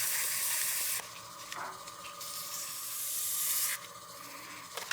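Sandpaper at 320 grit rubbing against a turned wooden block spinning on a lathe, a steady close hiss with a brief lift partway through, alone without talk.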